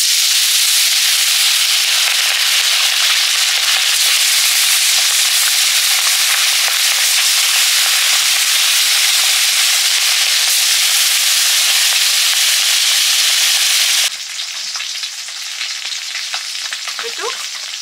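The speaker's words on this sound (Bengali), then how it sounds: "এবার মাছগুলো ভেজে নেব, কড়াটা গরম হয়ে গেছে।" Bhola fish frying in a hot kadai, a loud, steady, hissing sizzle of oil that holds for a long stretch before dropping abruptly to a quieter, softer crackle.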